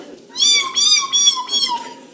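A pet bird imitating a cat's meow on a television talk show, delivering a series of four clear, drawn-out meows in close succession, loud and near, with a person speaking around it.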